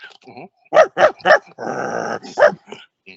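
A person imitates a barking dog with a coffee cup held to the mouth, giving several sharp resonant barks followed by a low growl, then one more bark and a softer whimpering yip, loud and close in a quiet room.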